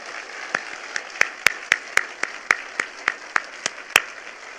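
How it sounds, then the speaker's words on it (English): Sparse, steady clapping from a theater audience at a Purina Hall of Fame induction ceremony honoring animal heroes, about a dozen distinct claps in a slow, even rhythm, moderately close with no voices. "please join me in another round of applause for Sabrina, Arik, Ruth, Lady, Kobe, and Smiley for these animal heroes"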